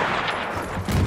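Sniper gunfire in the video game Battlefield 1, a couple of sharp loud shots cracking over a busy battlefield din, with the last blast arriving close and heavy near the end.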